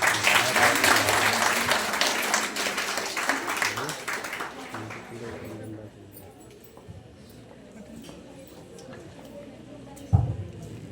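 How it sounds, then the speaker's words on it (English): Audience applause for dignitaries taking the dais at an International Women's Day health awareness talk: loud, dense clapping for about five seconds, then fading to scattered claps and room noise, with a sharp bump near the end. "Please give a big round of applause to our dignitaries."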